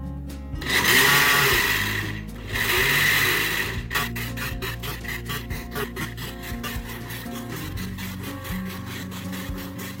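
An Oster blender grinds peanuts noisily in rough bursts, then settles into a steady rattling, churning whir as they are pulverized.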